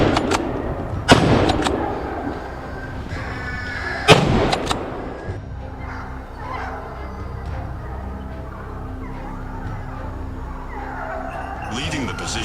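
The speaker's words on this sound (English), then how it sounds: "Each meat shot rang out, followed by the targets being taken down." Hunters fire at wild boars outdoors, with two sharp, loud gunshots a few seconds apart. Fainter engine-like rumbling and scattered noise follow, and a narrator talks over the scene.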